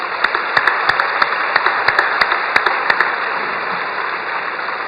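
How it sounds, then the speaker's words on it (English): At a choral festival finale concert in a university arena, the audience gives a round of applause. Individual claps ring out over a steady low hum from the hall, and the response is fairly sparse and even. "Give them a round of applause, please."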